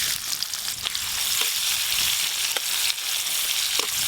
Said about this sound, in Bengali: এবার দেব পেঁয়াজ কুচি।